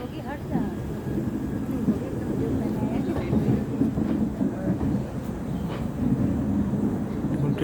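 An Amrit Bharat Express train rolls through a station on its inaugural departure, a steady heavy low rumble throughout, with people talking over it.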